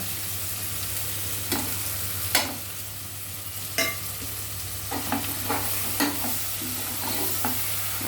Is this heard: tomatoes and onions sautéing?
yes